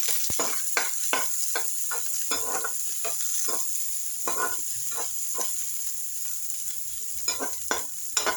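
Steady sizzling of onion and ginger frying in a pan, with a spoon stirring and scraping in irregular strokes throughout.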